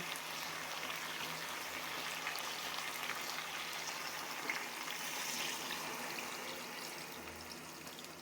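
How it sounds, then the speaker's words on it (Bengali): Water pours into a pan of frying chicken curry with spiced meat, producing a steady, soft rushing hiss and bubbling that lasts throughout at low volume, with no voices. "মাংস এখন আমরা জল দিয়ে নেব"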